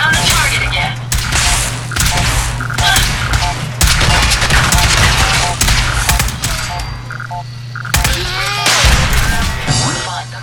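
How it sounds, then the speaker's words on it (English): Sustained gunfire in the video game Fallout 4, loud and dense, with rapid overlapping shots and bursts over a steady electronic hum, plus croaking creature-like noises mixed into the chaotic combat. "Opening fire."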